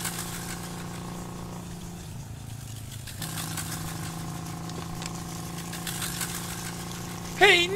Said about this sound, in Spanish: están en una moto